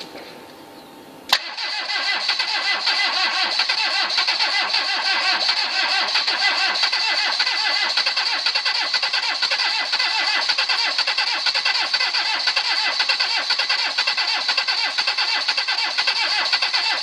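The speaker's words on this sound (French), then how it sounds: "je vais commander le démarreur depuis là" A Citroën CX 2200 diesel engine catches abruptly on the starter after a quiet moment, then settles into a loud, steady, close running clatter that continues to the end.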